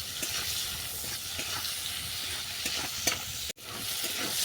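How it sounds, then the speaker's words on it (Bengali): Steady sizzling of shrimp coated in salt and turmeric frying in hot oil, close by, with occasional soft stirring scrapes and a brief drop-out near the end. "দিয়ে এটাকে আমি হালকা করে ভেজে নেবো"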